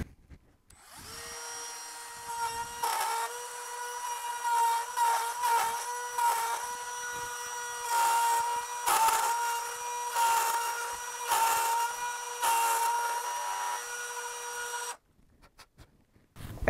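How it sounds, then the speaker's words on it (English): A Dremel rotary tool carves out material, its high whine rising and dipping in pitch as it bites into the workpiece, running continuously before stopping abruptly. "So most of this material will come out with a Dremel."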